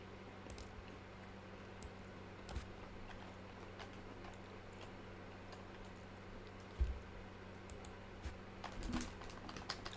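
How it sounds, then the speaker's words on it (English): Quiet clicking of keys on a computer keyboard, irregular taps scattered over a low steady hum, with a few sharper strokes standing out near the end. "my keyboard started working"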